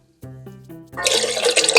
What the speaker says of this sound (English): I am going to add 3 tablespoons of nut butter, which have dissolved in about 1/2 cup of water